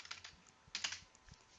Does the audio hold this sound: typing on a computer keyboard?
yes